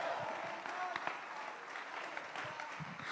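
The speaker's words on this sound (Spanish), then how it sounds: "Si alguien quiere darle un aplauso al Señor, puede dárselo." A church congregation applauds during a Spanish-language sermon, scattered hand claps blending into a steady wash of moderate applause, with some murmuring voices underneath.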